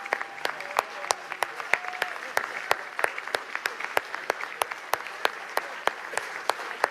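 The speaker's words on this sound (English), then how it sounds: "I'd like to have you give one more round of applause for an incredible group of folks" An audience applauds the candidates at the DNC chair election, a steady wash of crowd clapping with sharp, evenly spaced louder claps cutting through, fairly distant, while a voice speaks briefly over it.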